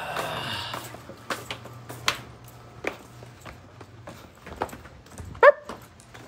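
A dog gives a few faint whimpers and yips against a quiet indoor background, followed by one louder, sharper bark or yelp near the end, with no one speaking.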